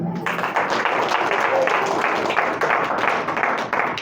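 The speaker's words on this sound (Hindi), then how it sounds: "ताली बजाइए जरा।" Audience clapping at a church gathering, a dense, continuous patter of applause lasting several seconds, fairly loud and close, with some voices mixed in.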